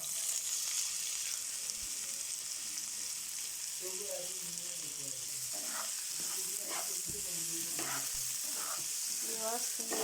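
Onion, vegetables and potato sizzle steadily in a hot pan for evening vegetable noodles, a constant bright frying hiss with intermittent stirring scrapes and clatters toward the end.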